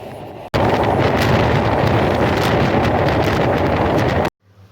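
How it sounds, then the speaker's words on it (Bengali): A Madhumati Express passenger train crossing the Padma Bridge rumbles along with a loud, steady roar and rattling, broad and close, then cuts off abruptly near the end. "পদ্মা সেতু হয়ে একমাত্র ট্রেন মধুমতি এক্সপ্রেস"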